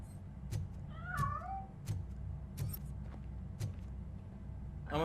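A cat in the video game RoboCop: Rogue City lets out one clear, gliding meow over a low rumbling background, with sharp clicking taps spaced through the scene.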